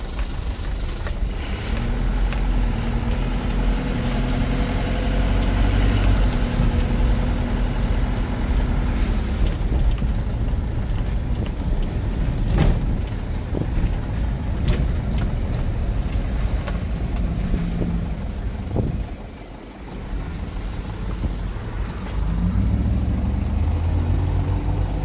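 A 2000 Mitsubishi Fuso FE-SP truck with a 4-cylinder 4D34 turbo diesel drives along, its steady low engine drone and road rumble continuous and close throughout, briefly dipping near the end.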